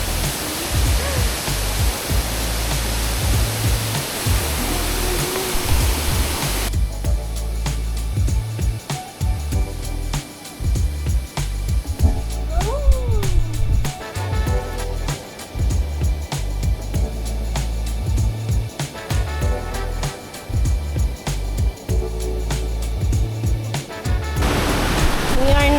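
A waterfall in the Agusan area of the Philippines, reached by a short hike, pours as a loud, steady broadband rush that cuts in and out between sections.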